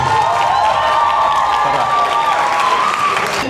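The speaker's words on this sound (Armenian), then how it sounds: "Ես ինչ ծափեր են" A wedding crowd breaks into dense, sustained applause with some cheering mixed in, loud and continuous throughout.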